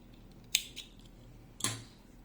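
Scissors snipping the yarn end of a crochet phone bag, two crisp close cuts about a second apart, each a sharp metallic snip with a small follow-on click, in a quiet room.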